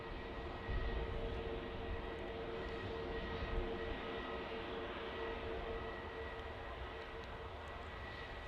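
EasyJet jet coming in to land at Manchester Airport, a quiet, distant engine drone with a faint steady whine running through it, low and even throughout.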